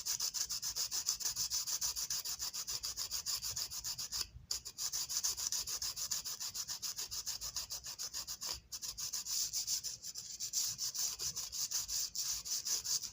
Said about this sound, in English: rubbing these down with tincture alcohol or rubbing alcohol works wonders